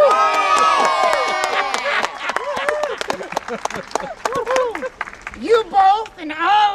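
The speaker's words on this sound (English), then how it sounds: "Everybody clap!" Guests at a Halloween-themed wedding in Salem, Massachusetts clap and cheer, scattered claps and excited shouts mingling with loud speech and whoops that rise and fall around the room.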